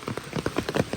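Heavy rain falls steadily during a hike at Shivapuri, drumming densely and close by in a short, continuous patter with no voices.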